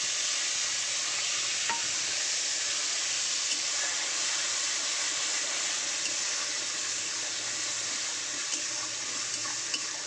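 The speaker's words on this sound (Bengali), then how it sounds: "এটাকে আগে কিন্তু আমি ভালো করে তেলে ভাজবো বা কষাবো" Ginger, garlic and onion paste frying in oil in a wok, a constant bright hiss of sizzling that holds evenly throughout, close and fairly loud, with no voices.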